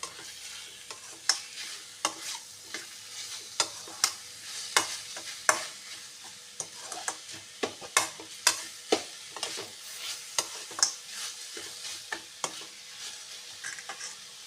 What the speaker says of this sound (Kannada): ಸರಿಯಾಗಿ ಫ್ರೈ ಆಗಲಿ ಇದು ಮೊದಲೇ ಬೇಯಿಸಿತ್ತು ಅದ್ರೊಂದು ಸ್ವಲ್ಪ ಫ್ರೈ ಆಗವು